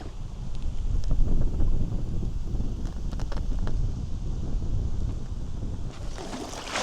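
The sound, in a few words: strong gusty wind on the sea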